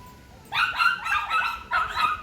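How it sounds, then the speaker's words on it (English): An excited dog outdoors near a wharf in Twickenham lets out a quick series of high, yelping barks in three close bursts, fairly near and loud against quiet background. "Dog's been excited because Travelling Matt's arrived"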